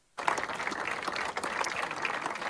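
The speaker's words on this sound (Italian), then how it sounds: "I manifestanti hanno lanciato un applauso di incoraggiamento verso il CPR" Protesters in Sicily break into sustained applause outside a migrant detention centre, a dense crowd of clapping that starts abruptly and stays steady and fairly close, with no speech over it.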